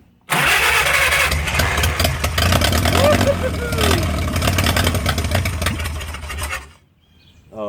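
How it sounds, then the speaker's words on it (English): A 1937 Willys flathead engine, left sitting in the woods for over 25 years, cranks and fires into a loud, rough, steady running roar close up. It cuts out abruptly near the end, and a voice can be heard over it. "All right, I got the choke held open and the accelerator pump is now pumping. Cool. Let's try it again. Ignition on."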